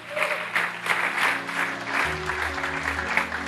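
A church congregation claps together during a Sunday service, with rhythmic, pulsing applause layered over sustained organ or keyboard tones.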